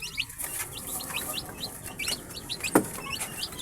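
A flock of hungry baby chicks in a brooder cheeps rapidly and continuously, with bright overlapping peeps close by during feeding and one louder peep partway through.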